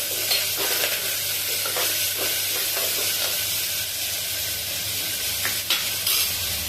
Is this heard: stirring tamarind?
yes